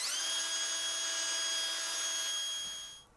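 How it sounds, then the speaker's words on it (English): A drill on low speed drives a reamer into a blind hole in metal on a hobby lathe setup, a steady close whine that runs for about three seconds before winding down. "I'll ream this till it bottoms"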